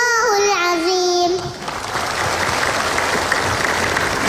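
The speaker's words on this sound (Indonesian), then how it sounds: "Tepuk tangan dulu untuk Kaisa." A girl's held, melodic vocal tone after her Quran recitation gives way to a burst of close, lively applause from a small audience that continues steadily to the end.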